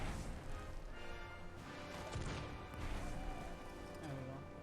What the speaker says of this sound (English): I'm just gonna use this cannon.